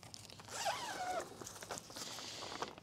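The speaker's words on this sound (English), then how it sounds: "So we're going to go ahead and open the zipper." A zipper is drawn open along a netting throwover bag for a GRIND Machine, one steady close rasping pull lasting about a second, followed by quieter handling rustles.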